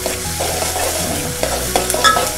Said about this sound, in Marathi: चांगलं जरा परतून घेऊया कांदा आणि टोमॅटो